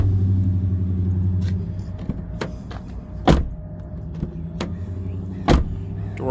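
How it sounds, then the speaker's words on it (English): Door of a 2009 Chevy Cobalt LT, salvage auction car, opened and shut, giving two sharp thuds over steady low vehicle rumble. "Door opens and shuts fine."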